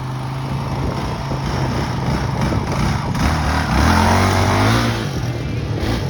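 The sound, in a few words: dirt bike riding around a property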